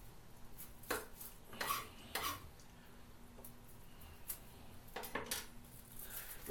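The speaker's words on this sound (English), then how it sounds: "We put some onion and some pepper into a frying pan." Onion and green pepper going into a frying pan in a home kitchen, with several scattered clinks and scrapes of utensils against the pan over a faint background hiss, no talking.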